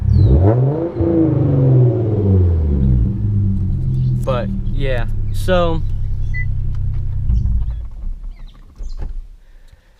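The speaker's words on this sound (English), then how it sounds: "I'll give you guys a little exhaust sounds." A Hyundai Genesis Coupe engine revs and rumbles through its exhaust, rising and falling in pitch, with someone speaking briefly over it near the middle.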